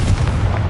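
A Confringo explosive spell from the Hogwarts Legacy video game goes off as a single loud, close, bass-heavy boom that rumbles steadily through the short moment.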